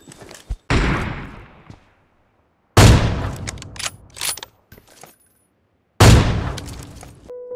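Gunfire in the BGMI battle royale mobile game rings out in three sharp, loud bursts separated by brief silences, with short metallic clatter trailing each shot.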